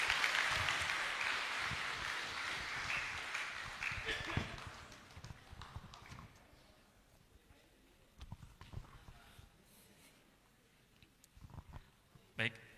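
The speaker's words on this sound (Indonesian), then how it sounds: "Tepuk tangan semuanya." An audience applauds at a seminar for millennial civil servants in a hall, the clapping dense and loud at first, then fading into scattered claps and room noise.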